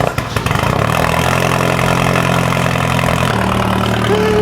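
A loud engine idles close by through a custom straight-pipe exhaust with no muffler. The rumble is steady and throbbing, with a brief rough burst as it fires up.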